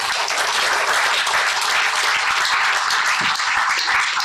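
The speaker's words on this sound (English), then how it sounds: "And let us clap for ourselves" A standing audience of police officers and officials applauding at an election announcement meeting, steady dense clapping throughout at even loudness with no pause.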